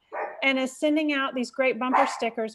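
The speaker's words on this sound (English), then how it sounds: "Sorry, my dog, just the doorbell rang." A house dog barks and yips close to the microphone during a school board meeting held from home, with the barks mixed under a person's ongoing speech.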